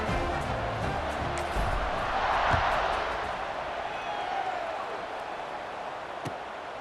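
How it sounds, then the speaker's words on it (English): Stadium crowd in EA Sports College Football 26 buzzing after a score, a steady broad roar of many voices that swells slightly midway, with a few faint whistles and thuds, no distinct talk on top. "this crowd is buzzing after that last score"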